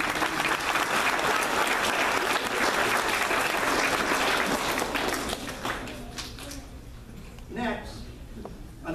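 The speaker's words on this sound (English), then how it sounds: "Let's have a round of applause." Audience at an outdoor main event applauding loudly, a dense sustained burst of clapping that fades out over the last few seconds.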